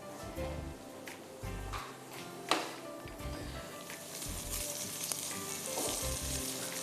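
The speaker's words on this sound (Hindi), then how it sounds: "अलग से अगर आपको सॉटे करना है चिकन विंग्स को, तो आप अलग से भी सॉटे कर सकते हैं।" Chicken wings sauté in a pan with a steady, soft sizzle and frying crackle, broken by the scrape and clatter of stirring.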